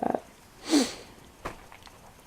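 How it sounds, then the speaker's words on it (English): A person sniffing indoors, one soft nasal sniff near the start and a clearer, louder inhale through the nose a moment later, then a faint short breath, close to the microphone with no talking. "I'm sorry I keep sniffing."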